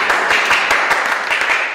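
Applause from a small group for a children's folk dance teacher at the close of an online Hungarian folk dance session, steady continuous clapping throughout at moderate loudness.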